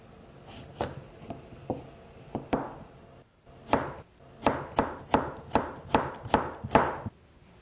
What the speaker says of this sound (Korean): 그 다음 오이를 썰겠습니다.